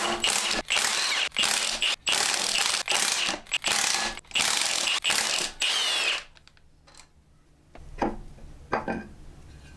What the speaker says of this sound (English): So let's go ahead and press them into the flywheel.